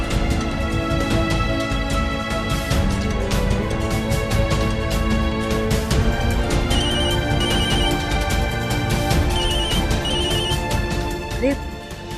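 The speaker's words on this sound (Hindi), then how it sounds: "बार बार एक ही नंबर से फोन आ रहा है, कुछ अर्जेंट होगा" A telephone rings in repeated short bursts beneath a steady bed of background music and talk, the ring pattern recurring several times.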